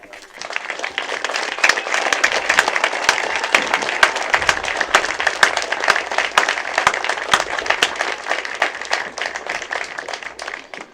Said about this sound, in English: let us give those heroes a round of applause